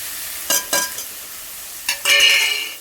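Turmeric, chilli, coriander and curry masala powders go into frying onion, tomato and chilli for an egg kuzhambu with roasted gram. A few sharp utensil clinks are followed by a rising hiss of sizzling near the end.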